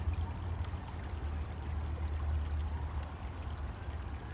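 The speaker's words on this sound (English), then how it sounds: "But hopefully you can hear the water a little." Water flowing along a small stream in a park, a steady broadband rush with a low rumble of distant traffic blended in, continuous and even throughout with no voices.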